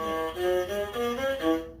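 A bowed single-string masinko fiddle plays a short wavering melody in tizita tuning with sliding pitches, close and clear, fading out at the end.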